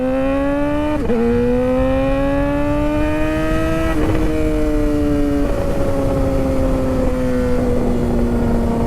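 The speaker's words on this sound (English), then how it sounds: "you can really make this thing backfire if you just kind of like hover throttle after a downshift or an upshift" A modified car engine revving under light hovering throttle after gear shifts, its steady rising and falling drone broken by a few sharp pops near the start and middle, loud and close with no talk.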